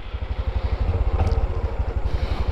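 A Honda Trail 125 motorcycle engine runs close by with a fast, even low thumping idle that swells slightly partway through, and no one speaks.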